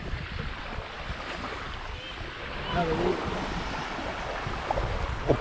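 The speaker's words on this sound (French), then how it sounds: "Ah mais il y a du vent." Wind blowing at the seashore while bass fishing with lures, standing in the water, a steady rushing roar with wind buffeting the microphone and faint surf beneath.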